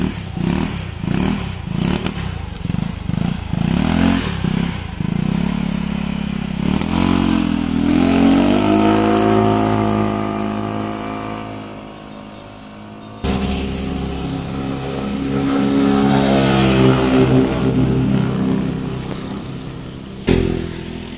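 A stock-carb Mio Amore scooter, freshly tuned and rejetted, rides along a road. Its engine drones loud and close, revving up and easing off over twenty seconds, with a brief cut near the end.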